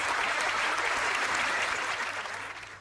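A theatre audience bursts into dense, sustained applause, a loud steady wash of many hands clapping that thins slightly toward the end, with no voices.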